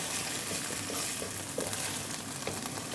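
Spice paste of ground garlic and ginger fries lightly in hot oil, a soft continuous sizzle with faint stirring scrapes, fairly quiet and without talk.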